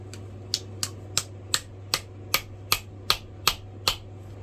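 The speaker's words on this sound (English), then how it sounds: "Now I got to get this hammered in. I'm going to be using my rubber mallet." A rubber mallet drives a wooden wedge into the head of an old hammer being restored, eleven sharp, evenly spaced knocks over a low steady hum, each strike clear and close.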